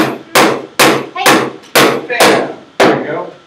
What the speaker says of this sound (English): That's what hammer's for.